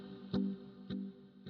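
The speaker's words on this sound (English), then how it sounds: "here's just the first reverb" Electric guitar through a Boss RV-500 reverb pedal with a single reverb engaged: three picked notes about half a second apart, each blooming into a sustained, washy tail that lingers at moderate volume.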